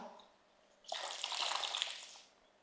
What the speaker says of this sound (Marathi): हे बघा हे सगळं पाणी नितळतं